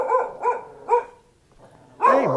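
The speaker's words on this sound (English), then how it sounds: "A lot of little dogs in here." Small dogs bark at a market on a lazy afternoon in Hangdong, Chiang Mai, Thailand: three short, evenly spaced yaps close by, a pause, then a longer, louder bark-whine.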